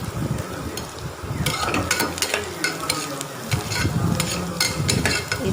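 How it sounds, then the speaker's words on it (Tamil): Onions sauté in oil as the base for a mutton gravy, a dense, loud sizzle with repeated spatula stirring and scraping close up. "அந்த வெங்காயம் வந்து நல்லா எண்ணெயோடு சுருண்டுடணும்"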